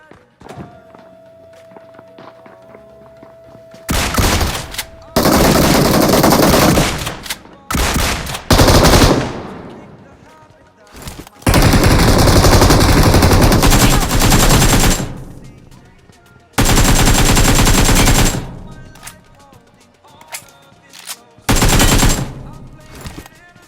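DBS shotgun and automatic gunfire in the BGMI battle royale video game, in loud repeated bursts with short pauses between volleys, alone.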